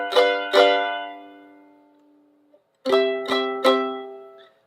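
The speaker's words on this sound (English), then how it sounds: "And a G dominant chord sounds like this." A G dominant seventh chord is struck twice and held as it fades, then after a brief gap sounds three more times in quick succession, each attack bright and close; no voices.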